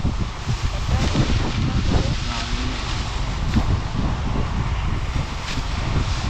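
Strong wind gusts across an open rice field, a steady roaring rush of noise with wind buffeting the microphone, continuous and loud throughout.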